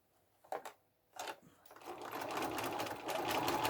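A few separate clicks and short bursts come first, then a sewing machine top stitches a seam in one continuous run, growing steady and close.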